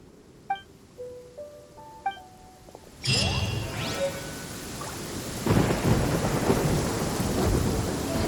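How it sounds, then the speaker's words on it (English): Rain and thunder in the video game Genshin Impact: soft chimes at first, then a loud thunderclap breaks in, and steady heavy rain and rumbling follow to the end. "Rain. One way to wash off the grime."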